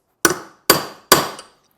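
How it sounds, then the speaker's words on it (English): A hammer strikes a ball bearing three times, driving it into a drilled hole during a ground anchor install, each blow a sharp close metallic impact with a brief ringing decay, evenly spaced and heard alone. "take the old Scholler hammer"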